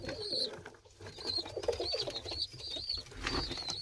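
Tumbler pigeons coo steadily in a loft, soft repeated low calls with faint higher chirps and some shuffling noise around them, close and moderately loud throughout.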